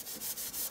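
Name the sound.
rubbing a baby wipe on an art journal page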